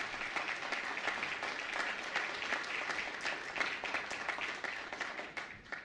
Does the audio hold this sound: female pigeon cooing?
no